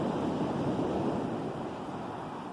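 Steady wash of ocean surf, a broad continuous roar of waves with some wind, no voices.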